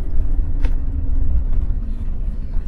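Heavy road traffic with trucks rumbles steadily nearby, a continuous low engine drone with a brief sharper pass partway through.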